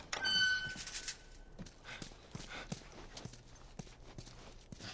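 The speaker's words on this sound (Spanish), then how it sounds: "Ahí está el caballo, Jacinto" Horse hooves clip-clop in The Last of Us on PS3, in the University chapter, as a fairly quiet, steady series of hoof strikes on hard ground, opening with a brief tonal chime.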